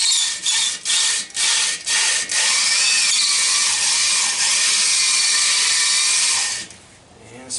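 A cylinder hone grinds inside an engine block bore, starting in short rhythmic bursts and then running as a continuous harsh, gritty whir before winding down.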